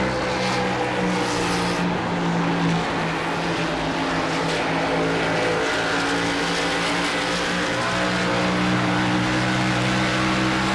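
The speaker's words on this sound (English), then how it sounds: "John Michael Bryan as they climb the banking into one" Toyota Supra race cars roaring around the banked Charlotte oval in a racing video game, a continuous loud engine drone with layered tones and no talk.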